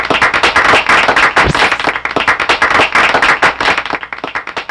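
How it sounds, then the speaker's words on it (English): An audience claps in sustained applause at a 75th anniversary launch and fundraising event, a dense run of close, loud handclaps lasting throughout with no talk over it. "Let's give them a round of applause"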